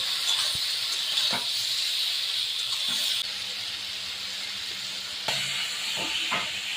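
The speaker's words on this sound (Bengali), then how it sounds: "এবারে ধনে আলু কষে নেব" Potatoes with coriander sizzle in a hot pan with a steady, close frying hiss that carries on throughout, with a few faint clicks.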